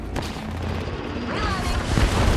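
Gunfire in the video game Apex Legends during a firefight, a dense burst of loud shots and booms packed together over a couple of seconds with little pause.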